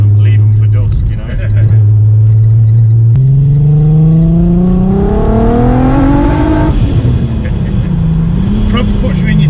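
A supercharged Mk4 Golf R32 heard from inside, its engine note climbing in a loud, rising pull under hard acceleration, then easing back. A voice talks over the drone.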